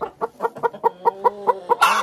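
A laying hen sitting on eggs gives about ten evenly spaced clucks, close and clear, ending in a louder, harsher squawk as her eggs are taken from under her.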